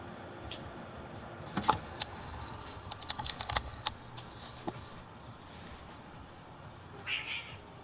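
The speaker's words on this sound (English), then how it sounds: "All of my cats are laying on my bed right now." Cats lying on a bed give faint meows, with a brief cry near the end, among scattered clicking taps like keyboard typing over a low steady background hiss.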